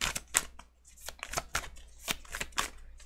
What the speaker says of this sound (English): I can't interpret while I'm shuffling.